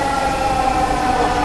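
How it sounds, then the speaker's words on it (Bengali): A metro rail train pulls into a station platform, a steady rumbling roar with a tonal hum that holds loud and close throughout. "আনসার ভাই, ওই যে আমাদের চমালক্ষ্য ট্রেন চলে আসছে,"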